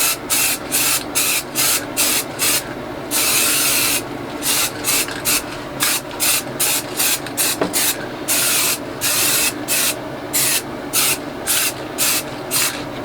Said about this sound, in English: Putting a very light spray over this